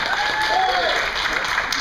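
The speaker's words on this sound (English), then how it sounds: "clapping." Applause from a crowd at a podcast taping at a comic convention aboard a boat, steady dense clapping throughout with a few voices mixed in.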